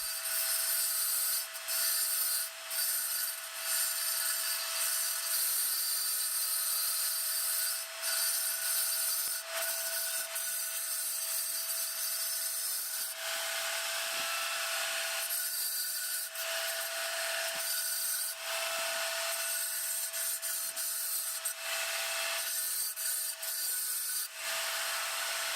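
A wet tile saw grinds through granite, shaping a pine tree form with sweeping, scooping passes, a loud, continuous high-pitched whine and rasp that rises and dips as the stone is worked.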